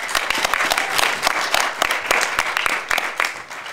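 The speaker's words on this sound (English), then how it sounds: "Give her a big applause for that." Audience clapping for a panelist at a panel discussion, a brisk burst of many hands with sharp, close individual claps standing out in the steady patter.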